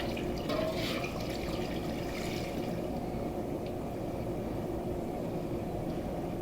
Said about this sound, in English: I'm just going to add a little more water into my bowl